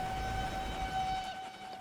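An express train in the Transport Fever 2 video game rumbles past with a steady, sustained horn-like tone over low rolling noise, moderately quiet and fading toward the end.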